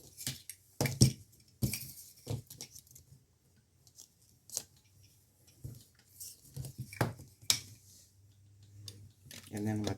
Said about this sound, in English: So all I'm doing now is wrapping the wire.